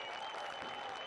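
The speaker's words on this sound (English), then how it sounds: "well-deserved round of applause from the Phoenix Rising faithful as Jason Johnson comes onto the scene" Crowd applause from home supporters at a professional soccer match, a brief, even burst of clapping and cheering heard at a distance in the stadium.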